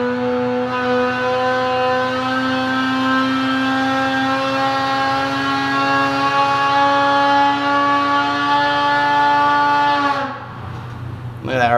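A 2018 Polaris Axys 800 snowmobile engine with a Bikeman stage 4 build revs hard on a dyno indoors, a loud sustained high-RPM scream holding one rising pitch for about ten seconds before cutting off abruptly.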